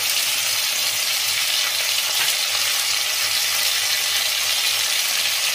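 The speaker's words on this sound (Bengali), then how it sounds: "সজনে ডাঁটা ভাজলে কিন্তু শক্ত হয়ে যায়, তাই জন্যই তরকারির সঙ্গে এবার সাঁতলে দিচ্ছি" Steady, loud sizzle of drumstick pieces sautéing with vegetables in hot oil in a pan, a continuous bright frying hiss with faint stirring clinks.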